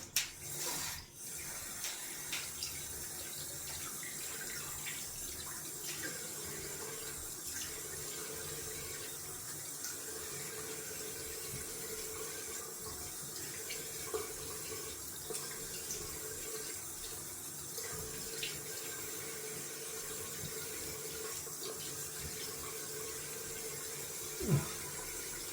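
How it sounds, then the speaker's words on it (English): A bathroom tap runs cold water into a sink for a rinse after wet shaving, a steady, soft hiss of flowing water that continues throughout with a few faint clinks. "Going down for cold water rinse."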